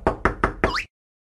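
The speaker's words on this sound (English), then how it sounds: "Someone is knocking on the door." Four quick knocks on a door in a Pocoyo children's app. The first three are crisp and evenly spaced, and the last one blends into a bright rising chime.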